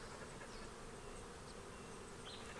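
A wild honey bee swarm settling into its hive gives off a continuous, even buzzing drone, soft and unbroken throughout with no voices.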